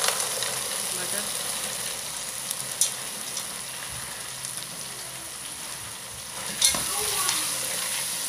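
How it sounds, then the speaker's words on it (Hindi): Steady, close sizzling of ginger and garlic frying in a pan for matar pulao, with a few soft scrapes of stirring and no talking. "अदरक और लहसुन डालकर हमने तकरीबन 2 से 3 मिनट फ्राई कर लिया है।"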